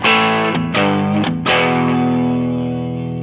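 Orange Micro Terror amp head at the edge of breakup with only a Memory Man delay pedal on, a few strummed guitar chords ringing out with gritty, echoing sustain, loud and close, no voices.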